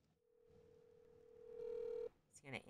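Phone call placed on speakerphone: a single steady ringback tone holds for about two seconds, growing louder, then cuts off as a voice begins to speak.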